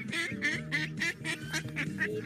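A duck quacking rapidly in a run of about eight nasal quacks, close and fairly clear.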